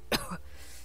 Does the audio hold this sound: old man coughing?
yes